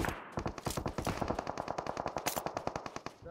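Rapid automatic gunfire from PUBG Mobile on the Miramar desert map, a steady burst of about thirty close, loud shots in quick even rhythm with a sharp echoing tail.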